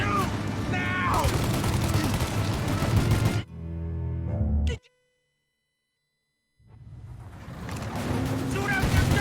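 Gunfire in Mafia Definitive Edition, a dense, loud barrage of shots and vehicle noise that cuts out abruptly into silence for about two seconds, then the firefight resumes.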